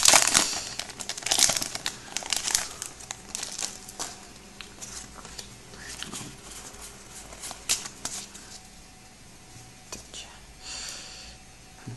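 A Pokémon trading card booster pack from the Plasma Freeze set has its foil wrapper torn open, with crisp crinkling and rustling near the microphone in bursts, soft speech around it.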